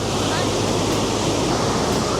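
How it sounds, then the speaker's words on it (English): Ocean waves wash up on a shore in a loud, steady, broadband rush that fills the whole stretch without a break. "the waves are coming all the way here"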